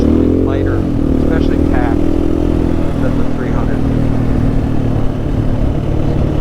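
A light dual-sport motorcycle riding the TransAmerica Trail, with a steady, loud engine drone held close throughout and pitch shifting slightly as the rider changes speed.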